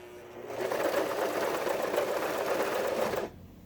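Janome New Home 41012 portable sewing machine stitching through four layers of fabric, a steady, loud, continuous mechanical whir running about three seconds before stopping abruptly, with no talk over it.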